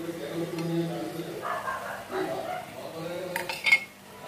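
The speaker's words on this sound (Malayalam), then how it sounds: "നല്ലതുപോലെ തിക്കാവുന്നത് വരെ നമുക്ക് മിക്സ് ചെയ്ത് കൊടുക്കാം" Thickening pineapple halwa is stirred in a pan, with a utensil scraping and clinking against the metal and a sharper cluster of clinks near the end, while a voice talks throughout.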